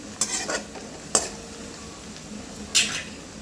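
Onions sauté to golden brown in a pan, with a soft steady sizzle broken by three sharp scrapes of a spoon stirring against the metal.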